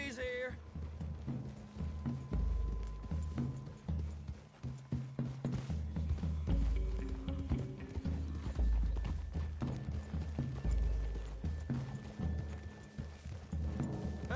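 Hooves of horses in a Western-style video game clip-clopping at a walk, a steady uneven rhythm of close thuds over low ambient tones, with people talking now and then.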